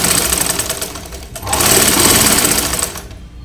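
An electric sewing machine stitches a plain blouse, running in a loud, close, rapid whirring chatter, briefly pausing midway before speeding up again and then slowing off toward the end.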